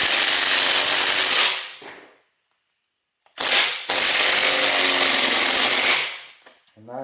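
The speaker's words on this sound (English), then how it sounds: "we can throw our impact on there" A battery-powered M12 impact wrench hammers at a stuck spark plug on a Mopar 340 engine, two loud rattling bursts separated by a silent pause, with a faint clunk at the end.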